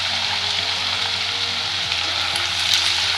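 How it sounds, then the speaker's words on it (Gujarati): Yam (ratalu) chips fry in hot oil, a steady dense sizzle and bubbling that stays close and loud throughout, with faint stirring and no talk. "તુરંત જ આ રીતે મિક્સ કરતા જઈ અને તળવાની છે, જેથી એક પણ ચિપ્સ એકબીજા સાથે ચીપકે નહીં."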